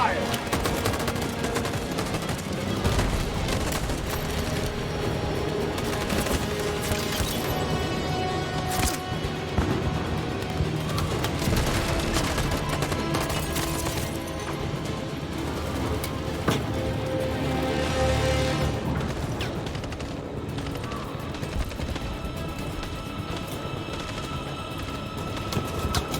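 Gunfire in the video game Detroit: Become Human, sustained bursts of automatic fire and scattered shots over a loud, busy battle soundscape, continuing without pause for over twenty-five seconds.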